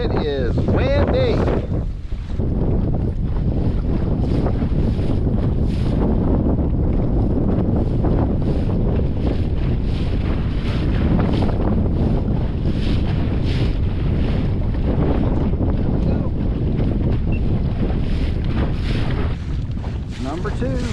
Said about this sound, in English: This wind is really strong.